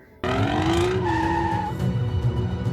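A stolen car tears away in an action film scene, with a loud, sustained screech of skidding tires and a rising engine roar lasting a couple of seconds before settling into steady road noise.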